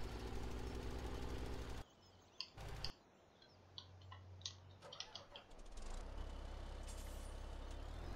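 A truck in the video game Farming Simulator 17 idles with a steady engine drone, then sharp air-brake hisses and clicks follow, and the engine rumbles back up at the end.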